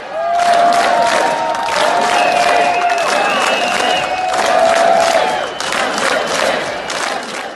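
A large crowd outside a Minsk metro station chants and cheers in rhythmic waves, loud and close, with whoops, shouts and scattered clapping over the steady roar.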